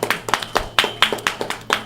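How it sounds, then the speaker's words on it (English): A small audience claps for a woman at a show. The quick, close handclaps are fairly loud and keep an uneven rhythm for about two seconds, with no talking over them. "with sweet Yolanda, give her a round of applause."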